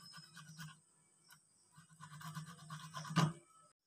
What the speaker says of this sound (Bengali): এগ্রেটার দিয়ে আমটাকে গ্রেড করে নেব।